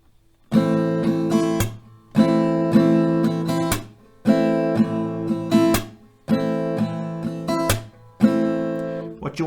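Acoustic guitar strummed in a down, down, up, clap, down pattern for a song rhythm, four bright repeated rounds with short gaps, each ending in a sharp percussive hit, played alone and close.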